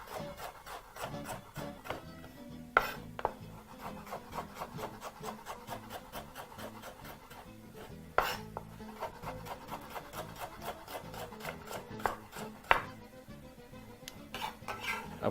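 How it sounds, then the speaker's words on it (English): A knife chops vegetables diagonally on a wooden board in quick, even strokes, with close crisp taps repeating steadily and a few louder knocks. "proceed to chop that diagonally with your knife right in front of you"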